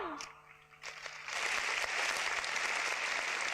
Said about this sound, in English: Let's have an applause for Mr. David Sumual.